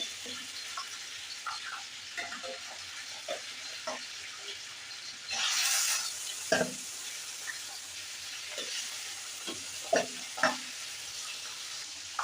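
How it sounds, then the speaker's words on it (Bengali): Fish fry in hot oil in a pan beside frying broiler chicken, giving a steady close sizzle with occasional utensil clicks and one louder burst of hissing spatter midway. "মাছগুলো ভাজা হচ্ছে"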